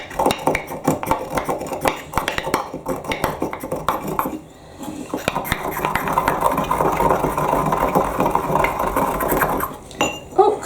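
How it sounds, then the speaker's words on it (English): Spice pods, about four of them, crushed in a pestle and mortar in a home kitchen, giving a steady run of close, clinking grinding strokes that grow denser and more continuous through the middle before ending in a few sharp knocks. "let's give that a crush in the pestle and mortar now"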